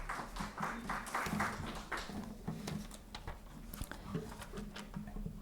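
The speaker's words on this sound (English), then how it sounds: "Please give huge round of applause" An audience at a New Delhi business summit and awards ceremony applauds, faint scattered clapping that patters on for several seconds without speech.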